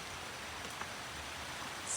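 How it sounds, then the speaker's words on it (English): Steady rain pours down outdoors on New Year's Day, a dense, even wash of noise that holds at the same level throughout with no distinct drops standing out. "Look at this rain."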